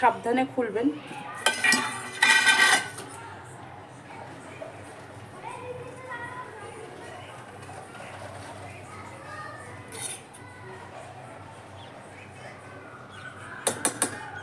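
A lid is pulled off a tiffin box holding steamed bhola fish in mustard, giving a short burst of metallic clatter early on, then quieter kitchen sounds and a brief clink near the end.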